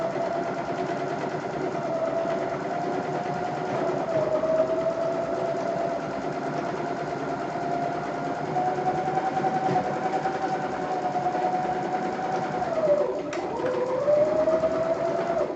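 A sewing machine strains to stitch spandex with thick thread, a steady close whir whose pitch sags and dips as it labors through bumps, running continuously for the whole stretch without talk.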